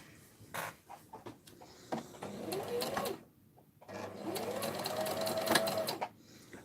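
Sewing machine stitching fabric for a vintage-style hanger, two runs of rapid mechanical whirring with a short pause between, close and fairly quiet among small handling clicks.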